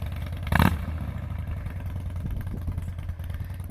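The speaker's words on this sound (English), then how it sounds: "There he goes with these new exhausts." 2014 Harley-Davidson Softail Classic with Vance and Hines Short Shots exhaust, a sharp burst as it pulls away, then a low rumbling engine pulse continuing close by.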